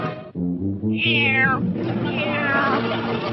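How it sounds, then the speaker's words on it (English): A cartoon kitten in The Flintstones gives a few clear meows, close and fairly loud, one rising cry followed by a longer drawn-out mew, with no talking over them. "Fred Flintstone, there's nothing here but a little kitten."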